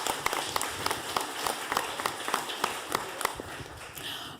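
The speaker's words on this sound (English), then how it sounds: "Let's give our students another round of applause." Scattered, uneven clapping at a school board meeting for students, individual sharp claps standing out in a loose rhythm rather than a full dense roar, fairly close and moderately loud.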